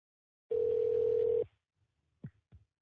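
An outbound phone call placed through a dialing system: a single steady ringback tone lasts about a second, then fades to quiet with a couple of faint clicks on the line.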